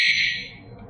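A brief, shrill electronic chirp like a cricket from a remote dog trainer beeper collar, high and buzzing, fading quickly into low background noise.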